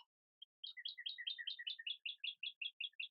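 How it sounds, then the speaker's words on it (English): A small bird chirps a quick series of bright, high tweets, clear and fairly close, in an otherwise quiet room. "Love the sound of the bird."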